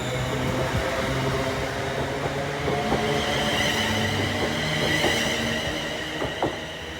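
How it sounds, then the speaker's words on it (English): A ScotRail Class 380 electric train pulls away on the Glasgow Central to Largs route near Johnstone, giving a steady, fairly loud rumble with faint wheel and rail squeals throughout and no talking. "departing shortly after was Class 380 doing the route from Glasgow Central to Largs, operated by ScotRail"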